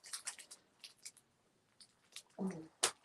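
Several short snips of scissors cutting pieces for a gingerbread house, irregular and close, with quiet pauses between and a brief rustle near the end.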